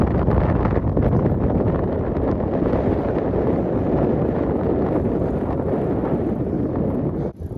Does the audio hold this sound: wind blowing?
yes